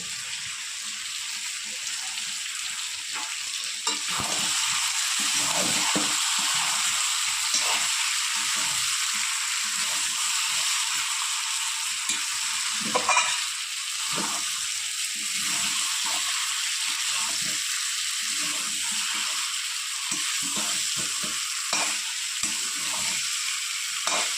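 New potatoes hiss and sizzle steadily in a hot pan of curry, with scraping stir strokes breaking through the continuous frying noise, close and moderately loud, no talking.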